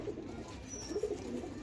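A pigeon from a keeper's prized old-breed stock coos softly in a few low, throaty phrases over a quiet background hum.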